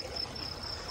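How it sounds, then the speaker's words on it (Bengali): Crickets chirping at night outdoors beside flowing water in Saudi Arabia, a steady high-pitched trill running continuously through the short clip over a soft background wash of running water. "আরেকটা চমৎকার শব্দ এখানে হইতেছে, যে ঝিঝি পোকার যে শব্দটা"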